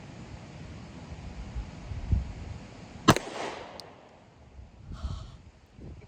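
A single sharp handgun shot fired outdoors, loud and close, with a short echo trailing off under steady wind noise and faint background sounds.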